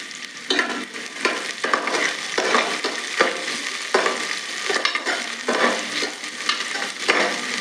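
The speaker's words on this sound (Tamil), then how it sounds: "வெங்காயம் வந்து வதக்கட்டும்." Onions sautéing in hot oil in a pan for Tirunelveli-style vendakkai (okra) kulambu, a steady close sizzle and fry broken by repeated stirring scrapes, with no talk over it.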